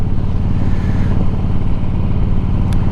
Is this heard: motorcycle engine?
yes